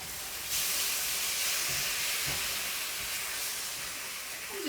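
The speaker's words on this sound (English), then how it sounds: "I'm just going to use some tongs and move this beef around to get it seared nicely." Beef sears in a hot pan, giving a steady, loud broadband sizzle and hiss throughout, with a few soft scrapes as tongs move the meat.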